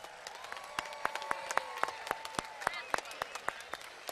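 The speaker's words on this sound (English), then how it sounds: "Let's get a round of applause for all your graduates." Spectators at a high school graduation on Fowler Field, Middletown High School, clap for the graduates. Sharp claps ring out in a fairly regular rhythm over a thin background, and whistles or cheering voices drift through the applause.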